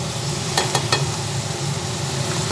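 Turmeric and Kashmiri chili powder fry in a pan with a steady, even sizzle, broken by a few quick stirring clicks near the start.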